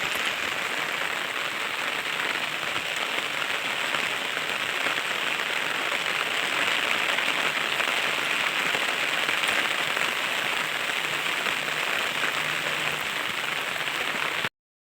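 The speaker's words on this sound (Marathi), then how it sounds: "पावसाला पण सुरुवात झाली आहे आणि खूप मोठा पाऊस आला आहे" Heavy rain pours down steadily, a dense, constant hiss of drops drumming on surfaces with no pauses throughout.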